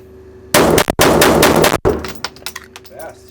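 Rapid gunfire from a Springfield Hellcat .380 pistol during a bill drill at a range, shots merging into two dense loud bursts with a brief break, followed by quieter clatter and ringing decay.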